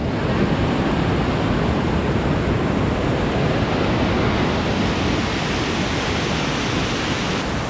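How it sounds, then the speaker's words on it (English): A raging river roars beneath a suspension bridge on an alpine mountain trail near Whistler, a loud, unbroken rush of whitewater that fills the whole scene with steady broadband noise. "Crazy suspension bridge"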